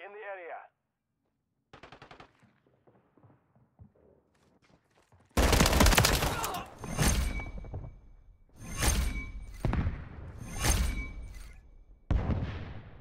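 Rapid automatic gunfire in a video game free-for-all match, loud bursts of fast shots in several clusters after a quiet start with brief game sounds.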